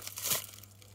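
Dead, dry foliage on a Musa basjoo banana plant is peeled back by hand, giving one short papery crinkle and tear close by against a steady low hum, with no talking.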